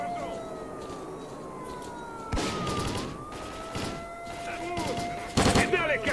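Gunfire in the video game S.T.A.L.K.E.R. Clear Sky, with several bursts of shots over a wailing siren-like tone, fairly close and loud, while voices talk underneath.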